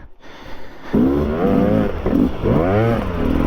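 Enduro motorcycle on ice, Beta or Sherco, revving hard: after a short quiet start, a loud, close engine snarl rises and falls in repeated climbing revs with clattery texture.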